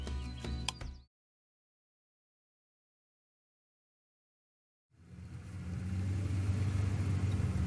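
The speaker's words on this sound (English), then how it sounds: "above the rumbling of the car's tires" Car tires rumbling on the road while driving in a video game, a steady low rumble that starts after a silent gap and holds loud to the end, with a short burst of other game sound at the start.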